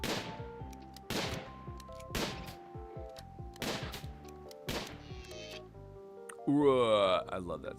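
Gunfire in RimWorld, several sharp cracking shots spaced about a second apart over a tonal music bed, ending in a brighter warbling effect, with a voice talking at points.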